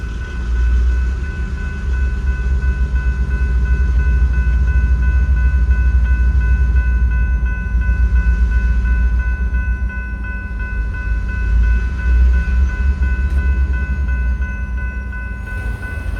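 A GP38 diesel locomotive of the Grafton and Upton Railroad rumbles past with a deep, steady engine drone and sustained tonal hum, loud and continuous throughout.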